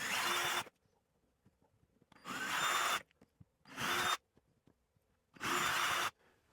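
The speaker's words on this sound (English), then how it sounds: "So let's go ahead and drill this in using the template." A power drill bores holes through a mounting template into a drywall wall while installing an EV charger, running in four loud, close bursts of about a second each with quiet pauses between.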